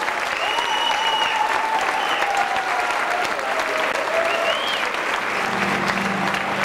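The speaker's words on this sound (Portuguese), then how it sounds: "Maria João, uma grande salva de palmas para ela." Sustained audience applause filling a hall at a 1998 Portuguese hairdressing event, dense steady clapping throughout with faint cheering voices mixed in.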